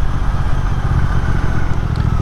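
A Triumph twin motorcycle engine runs steadily up close, a loud, continuous low rumble with a slight mechanical clatter and no pauses or talk.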